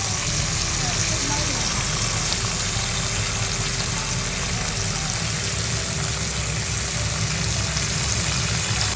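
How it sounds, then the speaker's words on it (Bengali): Fish rubbed with salt and turmeric fry in hot mustard oil tempered with nigella seeds in a wok, giving a steady, dense sizzle that stays loud and even throughout. "নুন হলুদ মাখানো মাছগুলো ভাজার জন্য গরম তেলে ছেড়ে দেবো"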